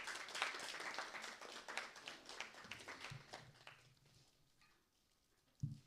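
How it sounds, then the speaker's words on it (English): Audience applause at an International Women's Day celebration honoring a High Court judge, a dense clapping wash that is fairly quiet and fades away over several seconds, with a brief louder thump at the end. "Please give a big round of applause."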